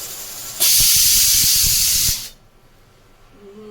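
Pressure cooker cooking khichuri of rice and lentils lets out one loud, steady whistling hiss of steam that lasts about a second and a half, then cuts off to a quiet room.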